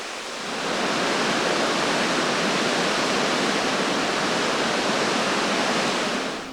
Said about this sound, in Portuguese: o parque abriga várias cachoeiras